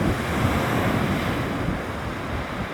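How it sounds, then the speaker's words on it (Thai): Ocean waves wash steadily onto a white sand beach, a continuous broadband rush of surf mixed with wind buffeting the microphone, loud and close throughout. "มาฟังเสียงคลื่นนะจ๊ะ"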